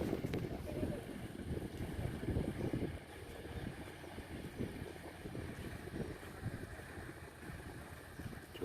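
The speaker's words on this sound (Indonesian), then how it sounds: "naik kapal feri" A car ferry crossing the sea from Tanjung Api-Api toward Bangka makes a low engine drone under gusty wind and water noise, fairly faint and steady.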